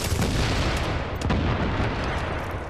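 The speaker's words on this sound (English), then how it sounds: "I go LMG mode on these assholes." Light machine gun fire in The Division's Dark Zone, a dense, sustained burst of rapid shots with heavy low-end boom, loud and continuous throughout with no talking.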